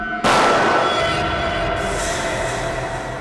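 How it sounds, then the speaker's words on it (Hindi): A single sharp, loud blast that hits suddenly, then a long rumbling decay that fades slowly. "गोली चलने की आवाज"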